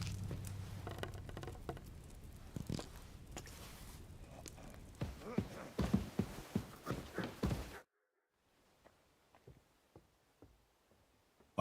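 Rain falling in the video game Kingdom Come: Deliverance II, a steady close patter with scattered louder drops for several seconds before cutting to near silence with a few faint taps.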